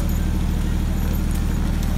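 Horses pulling a three-ton carriage in a driving display at the 2019 Great Yorkshire Show clop out a quick, regular hoof rhythm, loud and close, over a steady rumble of wheels and crowd ambience.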